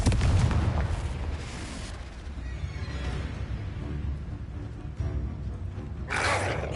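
Fiery spell blasts cast in the wizarding video game Hogwarts Legacy, booming explosions with a roaring, crackling rumble that swells at the start and again near the end over a busy game background.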